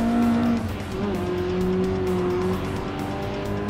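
BMW M3 Sport Evolution, the late-1980s sports car, racing a circuit in Gran Turismo Sport, its engine note droning and shifting pitch steadily, with tyre squeal and no voices.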